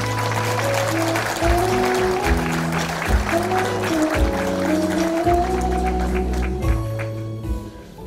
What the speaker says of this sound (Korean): 여러분 큰 박수로 맞아주십시오.